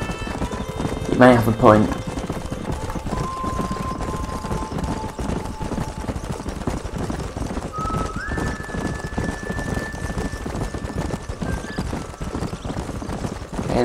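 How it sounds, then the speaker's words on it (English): Horses in Red Dead Redemption, with a loud whinny near the start followed by steady clip-clop of hooves over rain. Game characters talk throughout. "There's the horses!"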